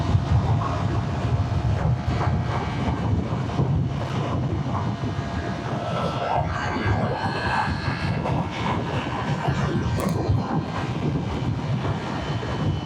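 A Ducati Panigale V4 motorcycle ridden at speed, its engine a loud sustained roar mixed with heavy wind rush, continuous and close for the whole stretch.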